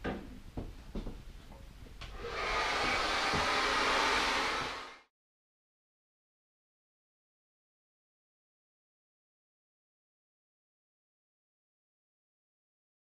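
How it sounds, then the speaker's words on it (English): A hair dryer blasts lavender-tinted blonde hair during a platinum root touch-up, a steady loud roar lasting about three seconds after a few light handling clicks, then cutting off into silence. "her hair was just blasted dry really quick"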